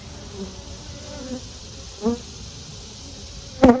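Honeybees buzz close by in short passes at an opened hive, one loud buzz flaring near the end over a quiet hum.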